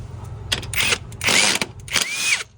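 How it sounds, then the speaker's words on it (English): Impact gun driving a bolt on a Honda Accord V6 engine during a timing belt job: three loud, close bursts of rattling, whirring hammering, each about half a second long, with brief pauses between them and low shop hum underneath. "Let me try with my impact gun."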